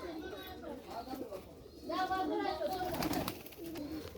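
Pigeons coo in repeated low, rolling calls, a loud burst in the middle of the clip, under steady background chatter. The birds include Kaldom pigeons kept for flying.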